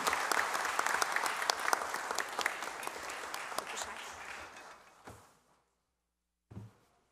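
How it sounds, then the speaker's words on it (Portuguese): Audience applause at a formal solemn session honouring a medal recipient, a dense steady round of many hands that tapers off around five seconds, followed by a short burst of noise after a pause. "Por favor, uma salva de palmas."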